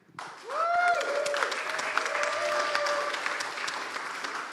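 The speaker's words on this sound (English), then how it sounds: "Let's have a clap for V-Rate." Audience at a startup demo day pitch event bursts into steady applause, many hands clapping close and sustained for several seconds, with a faint whistle or feedback tone near the start.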